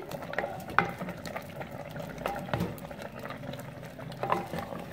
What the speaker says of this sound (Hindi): अब अच्छी तरह डोई की मदद से अच्छी तरह से मिक्स करेंगे।